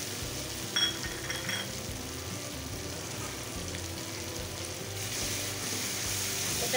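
Ground cashew paste sautéed in oil with ginger and garlic for a shol fish curry, a continuous dense sizzle with faint stirring scrapes, close and steady with no speech.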